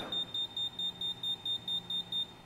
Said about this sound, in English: you could hear the beep, which means it was just powering up to full power